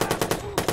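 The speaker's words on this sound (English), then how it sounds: "Let's get our assault rifle out." Assault rifle fire in the video game Watch Dogs: a rapid automatic burst of close, punchy shots in quick succession, with a short gap before two more rounds.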